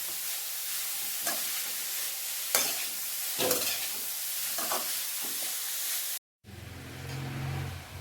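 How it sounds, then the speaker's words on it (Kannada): Grated carrot stirred and fried in ghee for carrot halwa, a steady close sizzle with scraping stir strokes throughout, a brief cut near the end, then a lower frying hiss continues. "ಗಜ್ಜರಿಯ ತುರಿಯನ್ನ ಮೇಲೆ ಕೆಳಗೆ ಮಾಡ್ಕೊಂತ ಈ ರೀತಿ ಈ ಒಂದು ತುಪ್ಪದಲ್ಲಿ ಇದನ್ನ ಹುರಿಬೇಕು"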